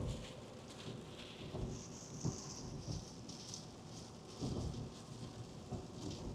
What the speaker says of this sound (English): It's a fast-moving line of storms.